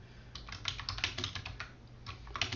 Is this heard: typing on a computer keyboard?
yes